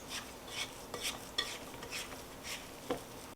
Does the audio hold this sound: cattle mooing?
no